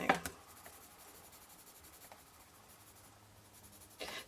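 Quiet scratchy rubbing of a watercolour pencil on paper, soft strokes continuing for a few seconds with small taps at the start and end.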